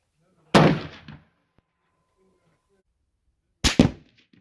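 Two sharp, loud rifle shots from a 300 Winchester Short Magnum at an outdoor range, a few seconds apart, each with a short decaying echo against silence.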